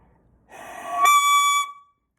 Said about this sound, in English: if you have too much mouthpiece in your mouth, it's gonna sound like this.